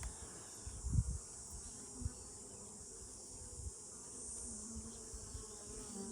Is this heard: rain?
no